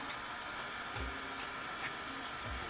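An electric stand mixer runs at slow speed while making homemade chewy brownies, a steady whirring hiss with faint low thumps recurring about every second and a half, close and moderately quiet, no talking.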